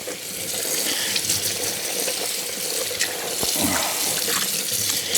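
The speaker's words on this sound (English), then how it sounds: "I want to rinse that cure off real good." Tap water runs steadily to rinse the cure off homemade dry-cured bacon, a close, constant splashing hiss lasting the whole stretch with a few small shifts as the meat moves under the stream.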